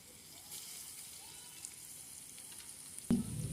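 Quiet background sizzle, then a sudden louder hiss as chopped onion drops into hot oil near the end.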